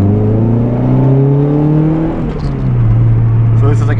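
A Nissan 240SX with a test pipe exhaust drones loudly and close, engine note rising steadily then easing off, with light talk over it.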